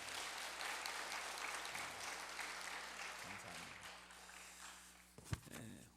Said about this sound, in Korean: 우리 어린 자녀들에서 한번 박수해 주시겠습니까?